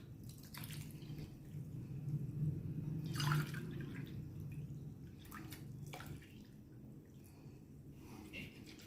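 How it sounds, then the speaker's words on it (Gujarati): Water is poured into a bowl of yogurt and gram flour mixture, a soft gurgling trickle with drips and splashes that swells midway and then tapers off. "હવે તેમાં 2 કપ પાણી ઉમેરીશું"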